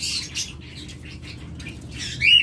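Green opaline lovebirds give bursts of high chirps and squawks over a low constant background rumble, with a sharper call near the end.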